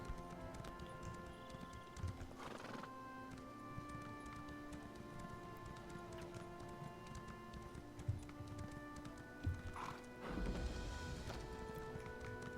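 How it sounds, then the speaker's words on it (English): Hooves clip-clop steadily as a horse is ridden in the Elder Scrolls Online video game, a continuous, rhythmic gait under faint ambient music, fairly quiet throughout. "let's get off the horse"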